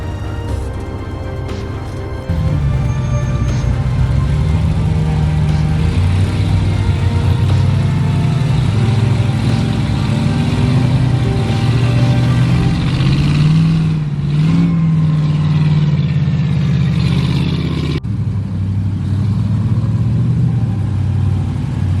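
A 4x4 rock crawler's engine drones loud and steady while climbing a rocky off-road mountain trail, its pitch rising and falling slightly as the throttle shifts.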